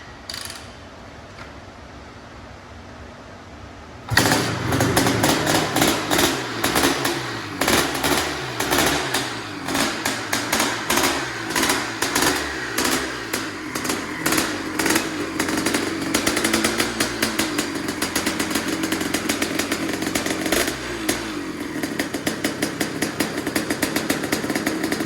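A Honda CR500R two-stroke engine in a BVC Trikes three-wheeler conversion fires up after a quiet moment and runs loud and close, with rapid rhythmic revving pulses and crackling bursts that continue throughout.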